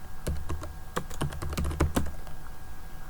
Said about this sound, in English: I have to type the password